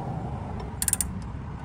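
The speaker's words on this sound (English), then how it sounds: "Now we can put a 19mm on the power steering pump, the big bolt here, and turn" A 19mm wrench turns the big power steering pump bolt on a Honda Element K24 engine, giving a brief cluster of metallic ratcheting clicks over a quiet background.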